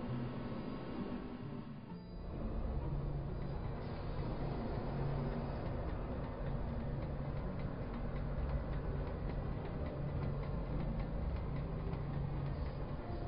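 Continuous rumbling of a train in the video game Lost Odyssey, a steady mechanical drone with a faint rhythmic clatter, loud and unbroken after a brief dip near the start.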